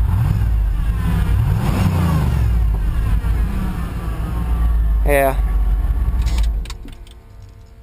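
A truck engine idles at close range with a low steady rumble and one brief rev, then cuts off near the end; someone speaks briefly over it.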